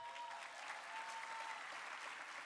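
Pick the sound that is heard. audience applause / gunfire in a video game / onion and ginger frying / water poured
audience applause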